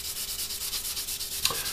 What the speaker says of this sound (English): I've just started sanding off the bottom area like this.